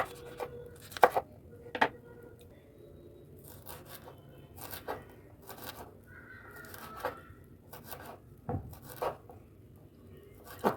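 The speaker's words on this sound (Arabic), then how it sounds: "هنقطع بقيه الخضار" Vegetables chopped with a knife for a potato tray bake, heard as scattered sharp knife thuds on a board at an uneven pace, close and fairly quiet, with some faint kitchen noise between the cuts.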